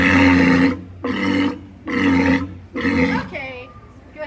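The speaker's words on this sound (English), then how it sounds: "Walruses growl, roar, whistle, and bark, and are the most vocal out of all pinnipeds." A 40-year-old female walrus at SeaWorld San Diego's Wild Arctic exhibit lets out four loud, deep roaring bellows in a steady rhythm, close and dominant, ending with a softer rasping grunt.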